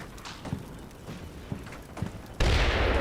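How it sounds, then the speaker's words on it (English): A secondary explosion of a truck in the Combat Mission Shock Force 2 video game: faint distant pops of gunfire first, then a sudden loud burst that stays as a roaring rush to the end. "Just another secondary explosion of a truck"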